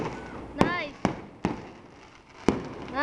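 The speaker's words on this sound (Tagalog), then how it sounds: "That's what I call fireworks." Fireworks burst in four sharp, separate explosions over about three seconds, the first with a rising whistle and crackle, set against a faint outdoor murmur.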